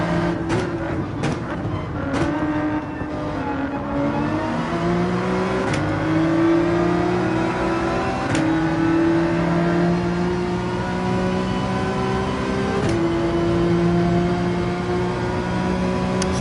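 A race car engine in Gran Turismo 7 drones loudly and continuously, its pitch climbing through repeated rising sweeps as it accelerates, with short gearshift breaks between each pull and no talk over it.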